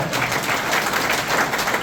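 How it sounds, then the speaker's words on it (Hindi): Dense, steady applause fills a large hall at a district hospital inauguration ceremony in Mahwa, with a crowd clapping continuously and loudly throughout, no voices standing out. "जयकारे में भी जोरदार और तालियों में भी जोरदार होना चाहिए"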